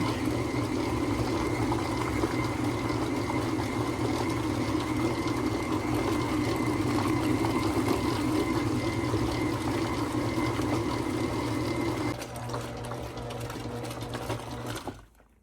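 A KitchenAid stand mixer churning cream into butter whirs in a steady, loud motor hum. It drops to a lower speed near the end and then winds down and stops.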